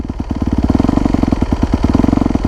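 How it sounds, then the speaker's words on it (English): A four-stroke dirt bike engine idles with a very slight crack of throttle, a steady close, loud low thumping pulse with even rapid firing and no talking. "you're going to give it a very, very, very small amount of throttle. Hear that?"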